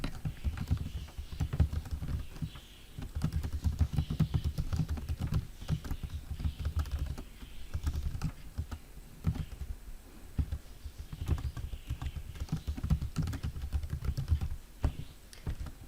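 Quiet typing on a computer keyboard, with rapid irregular clicks coming in bursts separated by short pauses, close and soft.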